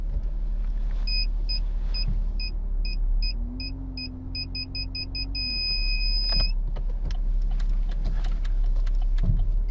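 A car moving through Buenos Aires streets, with a steady engine and road rumble throughout, a run of quick electronic beeps partway through and a short whirring motor sound, with no talking.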